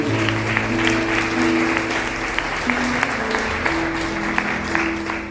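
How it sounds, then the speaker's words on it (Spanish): A church congregation claps steadily for several seconds, a dense, loud wash of applause filling the room with a few sharper claps standing out and sustained tones beneath. "Denle un aplauso al Señor porque Él vive."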